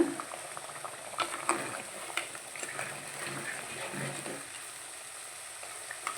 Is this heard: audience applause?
no